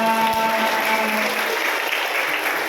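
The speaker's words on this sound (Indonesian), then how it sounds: "Oke, tepuk tangan." Congregation applauding during a Christmas morning Mass in a church, loud and continuous. The clapping of many hands fills the space evenly, with a faint steady tone lingering beneath.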